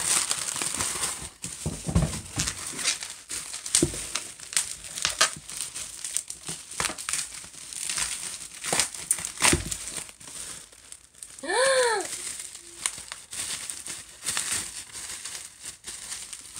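Plastic wrapping on a gift crinkles and crackles in irregular bursts as it is pulled open. Partway through, a bird gives a short rising chirp, and the crinkling resumes, loud and close throughout.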